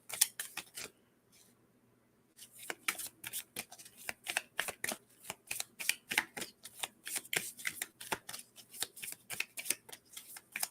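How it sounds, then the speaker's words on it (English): Angel oracle cards being shuffled by hand at a table, a quiet riffling flutter, a short pause, then a long run of rapid crisp slaps and clicks in steady rhythm, close and soft. "All these cards falling out."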